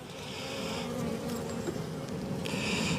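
Honeybees in an opened beehive, with brace comb being taken off the bottom of the frames, give a steady, dense buzz heard close up and continuously throughout.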